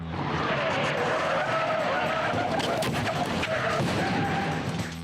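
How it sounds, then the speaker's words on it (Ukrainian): Toyota Corolla braking hard on a boulevard, its tires skidding in a long screech that wavers and squeals for several seconds over road noise, close and loud. "Її водій помічає знак надто пізно. Він гальмує, маневрує і пролітає за лічені сантиметри від нашої камери та авто."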